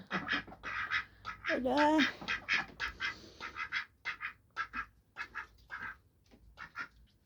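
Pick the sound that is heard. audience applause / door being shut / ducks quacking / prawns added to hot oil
ducks quacking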